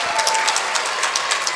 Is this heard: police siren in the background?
no